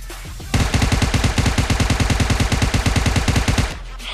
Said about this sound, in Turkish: BMP ile biraz atış yapalım